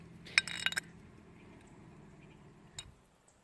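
Broken glass pieces clink together in a creek, giving two short bright clusters of chinks near the start and one more a couple of seconds later, with quiet outdoor ambience between.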